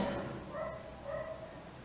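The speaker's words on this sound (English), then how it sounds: "the dog is barking, literally." A dog gives two short barks or yips, close and moderately loud over a steady background hiss, with no one talking.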